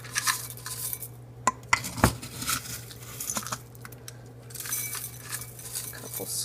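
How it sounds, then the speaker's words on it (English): Spoon clinks and scrapes against a bowl while granola is sprinkled over a parfait of coconut milk raspberry yogurt: a few sharp chinks and light rustles over a steady low hum, close and fairly quiet. "I have some granola here that I'm going to sprinkle on top."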